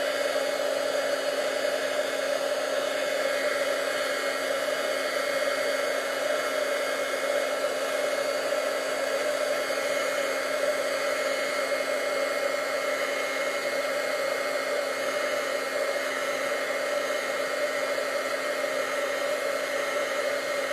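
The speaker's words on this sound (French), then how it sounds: "Je vais le faire sécher un petit peu avec mon pistolet à embossage." A heat embossing gun blows steadily and loudly without a break while drying craft work, a constant whooshing whir close to the microphone with no speech over it.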